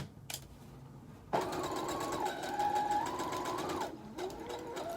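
A domestic sewing machine stitching faux fur for a wristlet, a brief click, then a steady rapid whirring run of about three seconds that slows and stops, close by.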